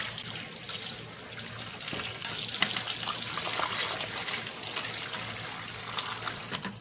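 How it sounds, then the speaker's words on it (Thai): Fresh wild yam (kloi) is washed in water to rinse off its white slime, with steady close splashing and trickling as it is rubbed and rinsed. "เราก็เอากอยมาล้าง กอยนี่ต้องล้างให้ดีนะเพื่อนล้างเมือกสีขาวออกให้หมด"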